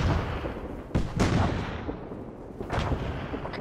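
Explosions in a video game: two or three sharp booming blasts about a second apart, with a final one near the end, over a steady low rumble of background game noise.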